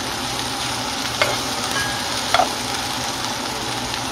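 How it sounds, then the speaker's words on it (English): Okra frying in a pan, a steady soft sizzle running throughout with a couple of brief clinks from stirring, no voices. "I just make this okra and just let it fry a little bit so it won't be so slimy."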